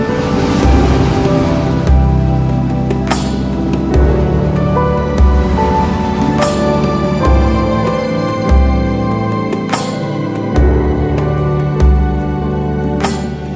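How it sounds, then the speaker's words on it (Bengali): Sea waves roll in at Patenga beach, where the Karnaphuli river meets the sea in Chattogram. The surf is close and steady, with regular rushing surges every couple of seconds and no voices. "কর্ণফুলী নদী আর সমুদ্রের মোহনায় সমুদ্র সৈকত পতেঙ্গা।"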